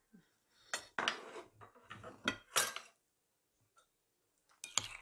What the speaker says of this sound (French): Et ensuite, on mélange tout ça.